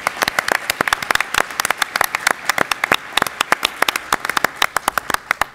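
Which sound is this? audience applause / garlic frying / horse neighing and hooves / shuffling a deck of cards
audience applause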